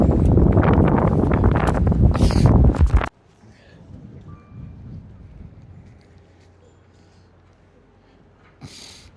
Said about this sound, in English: the wind's definitely picking up now